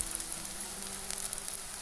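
Potatoes sizzle steadily in hot oil with tamarind, a close, continuous crackle and hiss with small spits and pops throughout.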